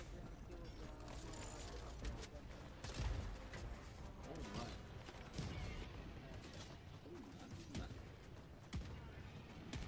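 Mortar fire and battlefield chaos in a multiplayer video game, with dense overlapping blasts, crashes and gunfire filling the scene continuously, a heavier thump near three seconds, and players talking throughout.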